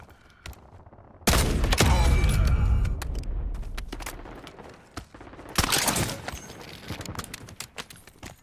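Gunfire in the Call of Duty Warzone video game: a loud, dense burst of shots opens after a quiet start and fades out, then a second sharp volley comes later, with no talk.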